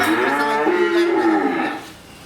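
Holstein Friesian heifers moo in one long, loud, close call that holds steady before tapering off at the end, with no talk.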